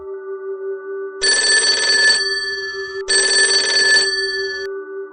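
Late at night in a village house, a phone rings with two loud, close bursts of bright electronic trilling, separated by a short pause, over a quiet steady hum and with no voices.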